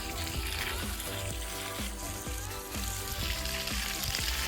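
Water poured steadily onto a compost heap built inside pallets, a continuous splashing and trickling wash over a low, uneven rumble, close by and with no talk.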